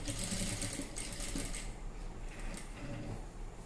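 Sewing machine running steadily while stitching the neckline of a blouse, a continuous close mechanical whir with rapid needle chatter and no pauses.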